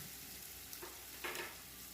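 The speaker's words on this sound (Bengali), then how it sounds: "মশলাটা একটু নেড়ে নিচ্ছি দিয়ে দিচ্ছি শুকনো লঙ্কা বাটা" Ground spice paste with dried chilli paste fries in a pan for a green jackfruit and prawn curry, a faint steady sizzle with two soft stirring scrapes partway through.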